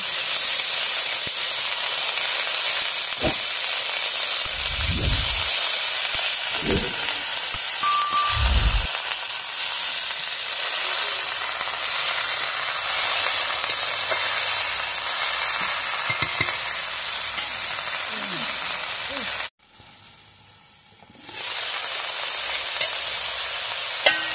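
Salty gira greens fry in a pan while being stirred, a loud, steady sizzle broken by a few dull spatula thumps, dropping out briefly before the hiss returns.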